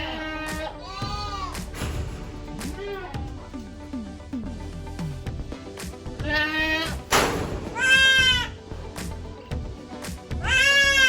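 Goats on a farm bleat repeatedly, several wavering cries spaced through the stretch, some nearer and louder toward the end, with faint thumps and a little talk in the background.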